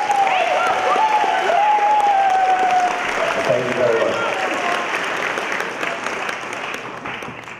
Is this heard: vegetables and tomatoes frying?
no